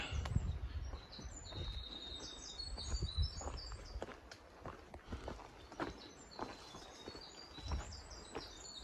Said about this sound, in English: That bird is getting with it.